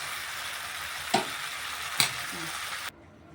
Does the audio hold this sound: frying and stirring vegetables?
yes